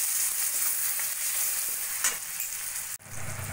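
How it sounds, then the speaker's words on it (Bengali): Spice masala of salt, turmeric, cumin and chilli powder with chopped tomatoes stir-fried in oil, crackling in a steady close sizzle with a brief scrape near the end. "দিয়ে ভালো করে মশলাটা কষিয়ে নেব।"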